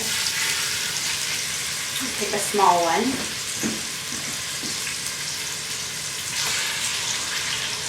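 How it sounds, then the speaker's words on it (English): Chicken sears in melted coconut oil, a steady close sizzle and spatter that runs the whole way through while someone speaks briefly over it. "I'm just using my piece of chicken to kind of swirl it to make sure it's coated all over the whole bottom. You hear it sizzle."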